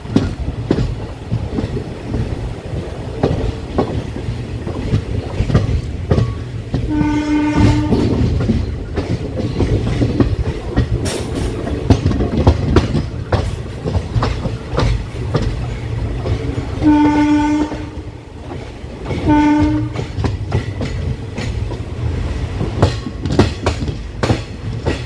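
The Tiruchchirappalli Express rolling along the rails, a continuous rumble and clatter of wheels heard from on board, with a train horn sounding three times, once near the start and twice later on.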